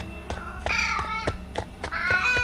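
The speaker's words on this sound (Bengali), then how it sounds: "বিড়ালের কান্নার আওয়াজটা যেন আরও কাছ থেকে শোনা যেতে লাগলো" A cat meows plaintively several times, the cries rising and falling over faint background noise, fairly close.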